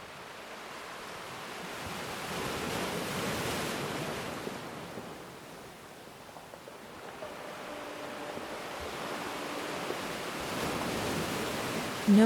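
Steady sea waves wash continuously in a calm seaside relaxation setting, a broad soft surf hiss with gentle swells rising and easing, with faint wind and a distant low tone; no voices.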